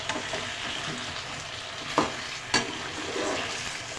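A spoon stirring potato slices frying in a pan, a steady oily sizzle broken by two sharp scraping knocks of the spoon against the metal, close and moderately loud, without speech.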